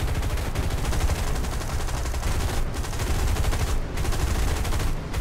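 Aircraft machine guns in War Thunder hammer out continuous rapid bursts, loud and dense for several seconds with brief gaps, with no talk over them.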